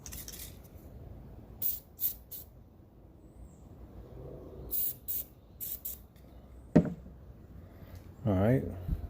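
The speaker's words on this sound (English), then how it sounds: "let me spray some PB here" Several short hissing bursts from an aerosol can of PB penetrating oil, close by, separated by pauses, with handling clatter and a quiet low hum underneath.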